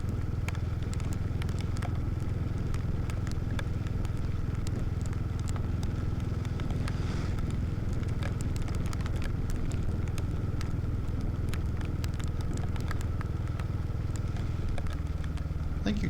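Royal Enfield Hunter 350 motorcycle riding in the rain, a steady low engine drone with constant road and rain hiss and scattered clicks and crackles, heard continuously from the rider's position without talk.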